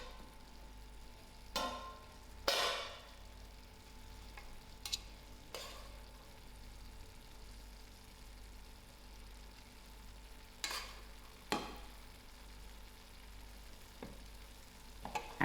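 Rice being stirred into a lamb mince filling for stuffed peppers in a pan, a soft steady sizzle broken by several sharp scraping strokes of the spoon spaced across the stretch, fairly quiet and with no talking.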